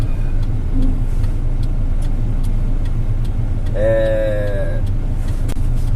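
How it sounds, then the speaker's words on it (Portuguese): A truck engine drones steadily while driving, with constant low road rumble and a brief higher whine partway through; no clear talk over it. "Vou parar o caminhão um pouco aqui antes de chegar na firma lá"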